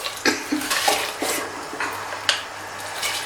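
Washed whole masoor lentils tip into a pot of water, a wet clattering pour with splashes and pot knocks that comes in short bursts, close up with no talking.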